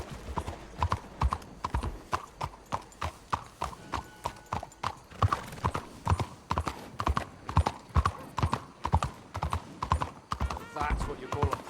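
Steady rhythmic clip-clop of horse hooves on a street in the Red Dead Redemption 2 video game, a continuous close trot with voices talking over it.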